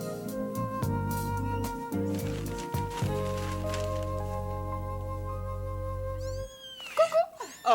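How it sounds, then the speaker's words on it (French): A cat meows in a 1977 French film scene over a sustained musical backdrop, with a few short, sharp cat cries breaking through near the end after the music drops away. "Oh, c'est un chat."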